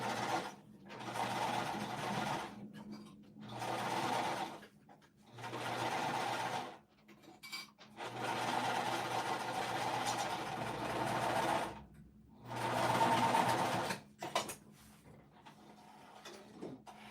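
A sewing machine stitching a For the Love of Change pouch runs in several close, steady bursts of humming stitching, with short quiet pauses between runs.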